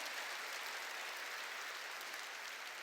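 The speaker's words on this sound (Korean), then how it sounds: "박수 세게 치라고요" A church congregation claps hard together during a Sunday worship service, a steady wash of dense applause held at an even level for about three seconds, ending on a sudden sharp burst.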